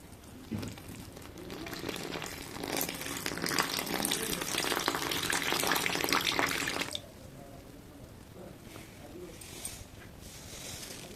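Wheat flour dosa batter with turmeric, chili powder, salt and water is mixed in a bowl, giving wet sloshing and stirring noises for about six seconds. Quieter, intermittent liquid sounds follow.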